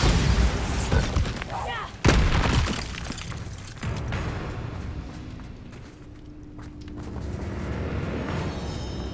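Bombarda blasting spell from Hogwarts Legacy going off in bursts, with sharp broadband impacts near two and four seconds over a dense, noisy game-battle background with voices.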